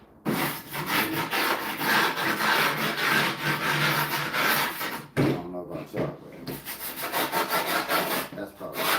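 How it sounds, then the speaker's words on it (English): A skateboard deck edge is scratched while the board is being built, giving a loud, close, continuous rasping scrape of wood, briefly interrupted and then resuming with a rough rubbing rhythm. "my favorite part about building a board is when you get to scratch it right at the edge"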